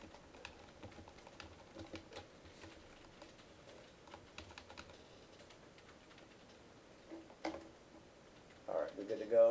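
Scattered keyboard typing during a classroom lecture, light irregular key taps at moderate distance over low room noise, with a brief burst of louder sound near the end.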